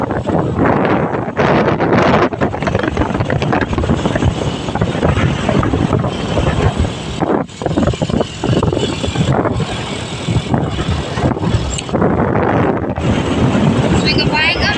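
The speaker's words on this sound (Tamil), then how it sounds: "காற்று எவ்வளோ பயங்கரமாக அடிக்குது." Strong gusting wind buffets the microphone outdoors by farmland, a loud continuous broadband roar with surging bursts and brief lulls across the whole stretch, likely with some voice mixed in underneath.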